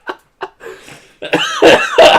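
Someone coughs a few times, starting with two short isolated bursts, then breaking into louder, harsher hacking coughs close to the listener.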